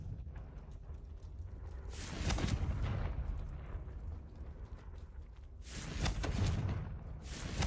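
Confringo fire spells blasting in the Hogwarts Legacy video game: two loud, booming explosions a few seconds apart, each with a crackling burst that rises over a steady low rumble.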